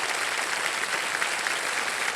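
A TV quiz show studio audience applauds in a dense, even burst of clapping that stays loud and steady throughout.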